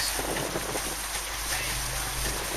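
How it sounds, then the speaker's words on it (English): A steady low engine rumble from a tunnel tug boat with wind buffeting the microphone, running nearby at a museum boat gathering, with no pauses. "that was the tunnel tug at the museum"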